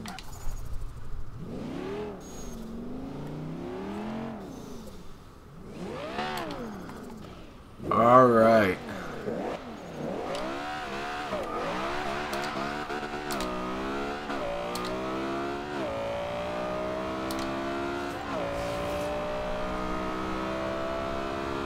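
A 2013 Audi R8 revs hard in the racing game Forza Horizon 2, its engine climbing repeatedly through gears in rising sweeps with a loud burst midway, a steady close drone throughout while someone talks over it.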